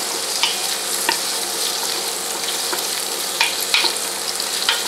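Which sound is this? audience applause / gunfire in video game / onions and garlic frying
onions and garlic frying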